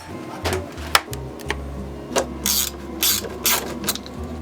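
A jewelry box mechanism is unscrewed by hand, giving a run of clicking, ratcheting turns and small mechanical knocks that are close and fairly loud, with no talking.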